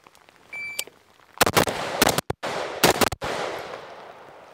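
A short shot-timer beep, then two quick strings of loud, sharp gunshots fired in rapid succession during a shooting drill, close and harsh, with no talking.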